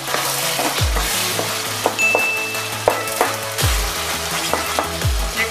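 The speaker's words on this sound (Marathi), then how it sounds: "टमाटे विरघळता विरघळत आपला मसाला पण व्यवस्थित फ्राय होतो।" Masala and tomatoes frying in oil for fish curry, a loud close sizzle under repeated scraping and clinking of a spoon stirring against the pan, with no talk.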